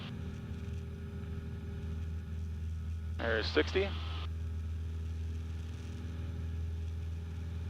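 Small airplane engine held at full throttle on the takeoff roll, a steady, droning low hum with a strong fundamental that stays constant throughout, with a brief spoken comment briefly overlaid midway.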